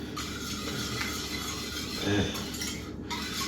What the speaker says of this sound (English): You want to just keep stirring and scraping the bottom of the pan